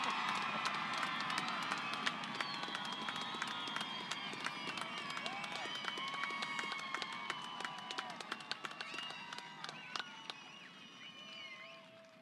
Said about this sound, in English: Go ahead and give them another round of applause.